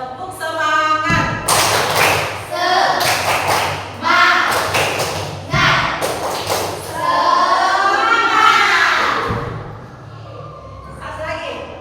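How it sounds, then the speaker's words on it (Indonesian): A group claps in rhythm and chants a tepuk semangat routine, with loud, sharp bursts of clapping mixed with voices in repeated patterns and a few short pauses between sections. "Tepuk semangat."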